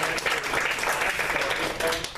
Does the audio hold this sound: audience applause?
yes